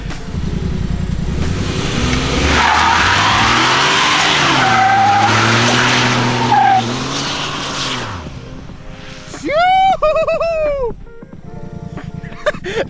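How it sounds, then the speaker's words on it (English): A small EcoBoost pickup on 33-inch tires does a burnout, its engine roaring and tires squealing loudly and continuously for about eight seconds before dropping away to quieter, scattered sounds. "Who's doing burnout to my truck?"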